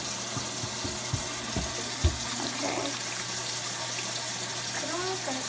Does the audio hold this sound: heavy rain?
no